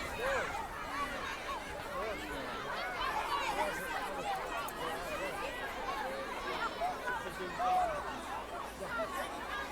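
A crowd of onlookers, adults and children, chatters in a continuous babble of overlapping voices, with occasional laughter, while waiting outdoors for a Vietnam War veteran Huey helicopter.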